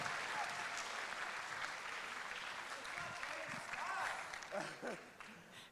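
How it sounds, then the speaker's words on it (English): Crowd applause at the Arizona FTC robotics season kickoff event, a faint, distant wash of clapping and cheering heard in a large venue, with some voices and scattered shouts rising toward the end. "So give each and every one of yourselves a huge round of applause."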